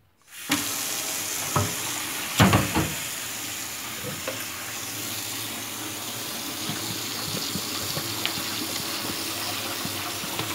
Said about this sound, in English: let's try to pour it into this